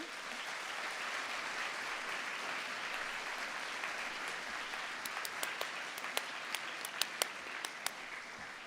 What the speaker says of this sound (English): I'd like you to give them a clap for everything that they've done to help you.